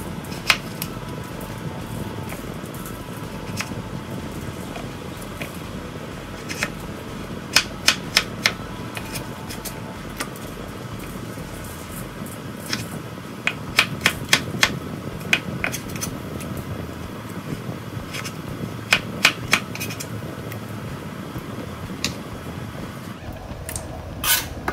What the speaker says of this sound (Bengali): একই সাইজে আমি আলু কেটে নেব।